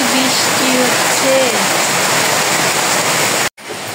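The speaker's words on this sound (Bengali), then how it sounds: "কি বৃষ্টি হচ্ছে" Heavy rain pours down in a loud, dense, continuous rush, with brief bits of voice early on and an abrupt cutoff near the end before the rain resumes more quietly.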